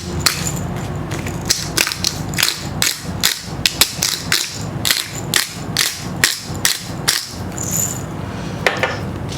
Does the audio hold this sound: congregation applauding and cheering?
no